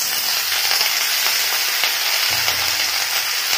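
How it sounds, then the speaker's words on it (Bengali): Carrot and eggplant pieces frying hard in a pan over a high gas flame, a loud, steady sizzle that holds evenly from start to finish with no voices. "গ্যাসের ফ্লেমটা হাই করে আমি এটাকে ভালোভাবে ভাজবো।"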